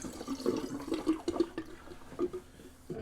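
Water gurgles and glugs as a bathroom sink drains, with irregular bubbling pops and trickles up close, fairly quiet and alone.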